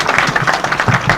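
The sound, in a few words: audience applause for a speaker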